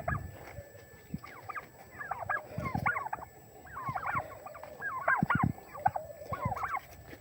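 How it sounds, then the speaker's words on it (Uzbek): A flock of turkeys on a poultry farm gobbles in repeated rapid bursts, several birds overlapping at moderate distance, with scattered thumps and clucks in between and no talking. "Mana kurkalarimiz do'stlar"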